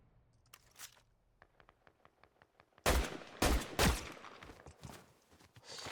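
Gunfire in the Fortnite video game: a series of quick, faint clicks and light steps, then several loud, sharp gunshot bursts close up, with no talking.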